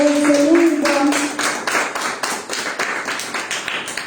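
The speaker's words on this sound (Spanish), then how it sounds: "Un aplauso al Señor" A Sunday church service congregation claps in a fairly rhythmic, together beat, with a sustained voice or tone lingering at the start before fading under the clapping.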